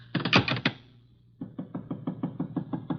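Knocking on a door as a radio drama sound effect: a quick burst of about six sharp raps, a short pause, then a longer run of evenly spaced knocks, close and crisp with no voices.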